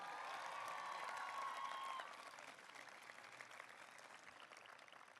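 Sustained applause from a commencement crowd greeting the platform party at a university graduation, a dense wash of clapping that is louder for the first two seconds and then continues somewhat softer, with a faint whistle early on.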